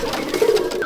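Pigeons coo in a loft as birds are released, a brief stretch of low burbling calls with soft flutter-like bursts, fairly close.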